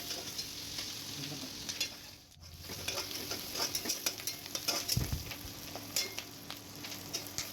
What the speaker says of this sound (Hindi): उसके बाद ऑनियन ऐड करेंगे और इसको ठीक से फ्राई कर लेंगे।